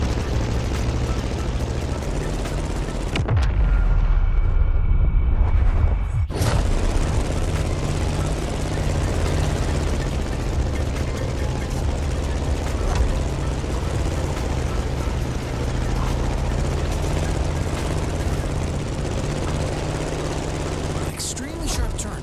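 Aircraft engine in The Crew Motorfest racing game, a steady loud droning hum running throughout during an air race, briefly surging louder near the start, with a voice talking over it.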